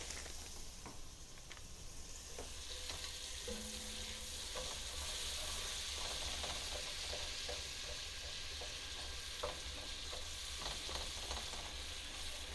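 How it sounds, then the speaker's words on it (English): Half a stick of butter frying in a hot pan on a stove, a steady close sizzle and hiss with scattered pops and crackles that keeps going without a break, and nobody talking. "I'm going to add a half a stick of butter."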